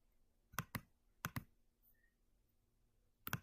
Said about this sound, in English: I was clicking the wrong thing here on my computer